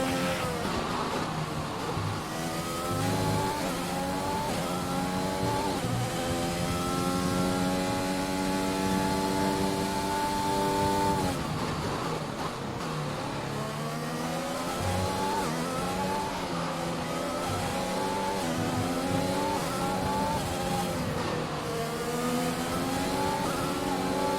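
F1 race cars in the video game F1 2021 scream past with high engine whine, rising and falling pitch through gear changes and a steady roar for the full stretch, with no talk.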